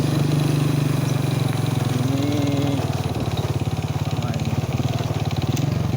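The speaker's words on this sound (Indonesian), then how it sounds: "Kita coba naik dengan motor butut." A small, old motorcycle engine drones loudly and steadily while riding uphill, its revving pitch shifting slightly as it climbs, close to the listener with no talking.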